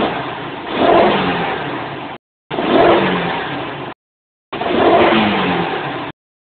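A car engine fitted with a spark plug enhancer system revs in three short bursts, each rising then cut off abruptly, loud and close.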